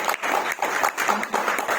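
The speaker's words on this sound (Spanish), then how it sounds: "Un aplauso a don Gilberto Amaya," A crowd applauding in honor of don Gilberto Amaya, a dense, steady burst of many hands clapping together close by, with brief dips in the rhythm throughout.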